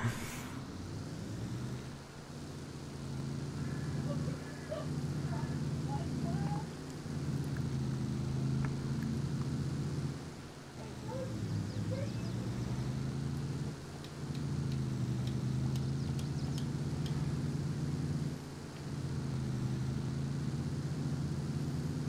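A deep truck engine in Farming Simulator 22 rumbles steadily, revving and easing off in several waves as it drives along, loud and continuous with no talking.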